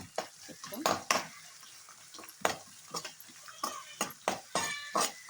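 Curry leaves and carrot pieces frying in a pan, with frequent sharp scrapes and clinks of a spatula against the metal over a thin sizzle, close and irregular in rhythm.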